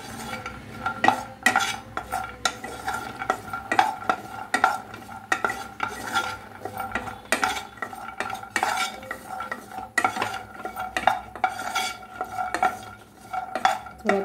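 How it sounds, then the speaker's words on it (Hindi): Almonds roasting in a pan for sabudana pulao, stirred with a utensil that scrapes and clinks in a steady rhythm, close and fairly loud, with no talking. "ये बादाम को थोड़ा रोस्ट कर लूँगी, बादाम को अच्छे से"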